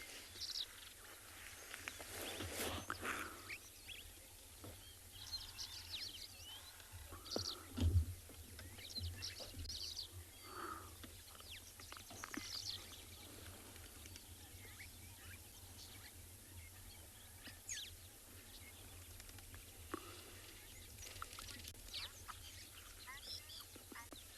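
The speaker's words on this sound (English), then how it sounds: "soak up the beautiful sounds of birds chattering away" Birds chatter and call at a waterhole at sunrise in Tswalu, South Africa, with duck-like quacks and honks scattered over a quiet outdoor background, one louder burst midway.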